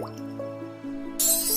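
Something dives into a river: soft ringing water drips and burbles, then an abrupt bright splash bursts in near the end, close and fairly loud.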